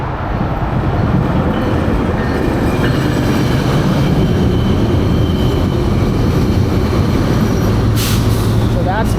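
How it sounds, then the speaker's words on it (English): Train rolling past near a freeway in Santa Ana, a loud, dense rumble with rail clatter throughout, plus a brief high squeal near the end; a voice talks over it. "here comes a train"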